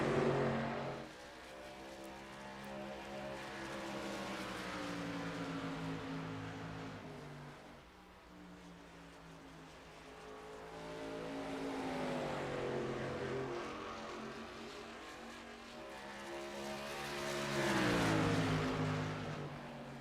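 Short Track Superleague race trucks circle a short oval, their engines rising and falling in pitch as they pass, with a loud surge near the start and another toward the end, plus a steady background roar.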